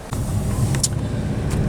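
A 2011 Buick LaCrosse CX sets off for a drive, heard from inside the cabin as a steady low engine and road rumble with a couple of small clicks.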